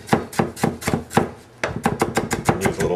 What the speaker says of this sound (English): Chop it up kind of roughly